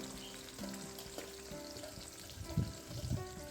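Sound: brinjal (eggplant) frying in hot oil

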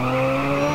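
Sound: car tires screeching, burning rubber in video game GTA San Andreas

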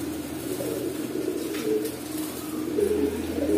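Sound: Huma dobaj pigeons cooing

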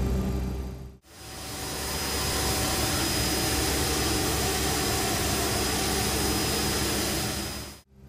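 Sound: CRJ-200 right jet engine starting up, X-Plane 11 video game

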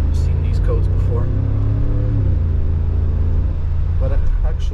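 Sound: Mercedes G63 AMG engine while driving

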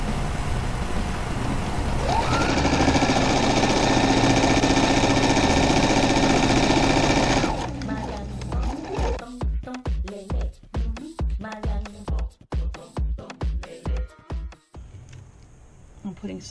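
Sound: sewing machine hemming fabric squares for window shades

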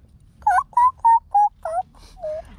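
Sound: child imitating a chicken

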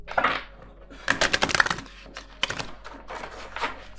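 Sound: tarot cards being shuffled

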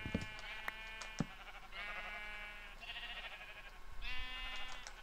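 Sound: sheep bleating in Minecraft video game

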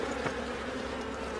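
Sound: bees buzzing in a beehive box

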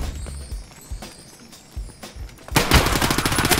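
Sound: gunfire in the video game Escape from Tarkov (SPT FIKA co-op)

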